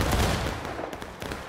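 Rifle volley in the War of Rights video game, a dense burst of overlapping muffled shots at the start fading into a rumbling tail with a couple of softer distant cracks.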